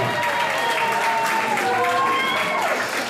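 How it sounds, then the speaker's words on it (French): Audience applause at the Miss New Caledonia gala, a sustained crowd clapping with music or a tone running under it and a voice briefly present. "on peut applaudir"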